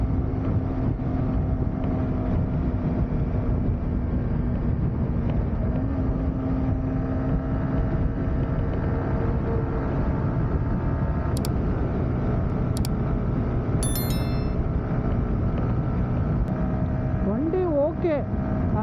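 Steady wind roar and buffeting while riding a lightweight Yamaha R15 M motorcycle in a crosswind, a continuous loud rush over engine drone, with a voice talking over it and a few brief high tones near the end.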